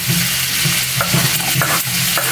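Chopped onion stirred and sautéing in a pan, a steady hiss with repeated scraping strokes of a spatula, close and fairly loud with no talk.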